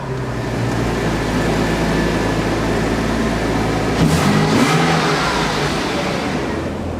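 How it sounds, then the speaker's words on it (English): Porsche Boxster Anniversary Edition running with a steady engine drone, then a brief rev swells partway through before settling back to a continuous idle, heard close from inside the car. "So might as well start the car up and we'll get going."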